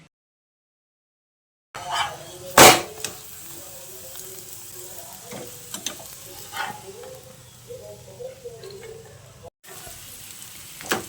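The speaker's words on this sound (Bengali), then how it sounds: "তো দেখুন আমি একটু মুচমুচে করে ভেজে নিচ্ছি" Paratha crisping in oil or ghee on a pan, a soft steady sizzle with occasional sharp crackles and spatula scrapes, close by and without talk, broken by brief gaps of silence.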